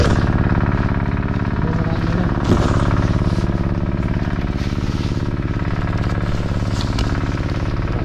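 Small sprayer engine running steadily on an okra farm, a continuous close, loud drone with a dense, even rattle that holds without pause throughout.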